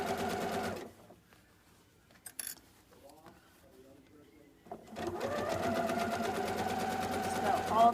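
Sewing machine stitching across a shirt collar stand, a steady close whirring run at the start, a pause with faint handling noises, then a longer continuous stitching run that grows slightly louder at the end.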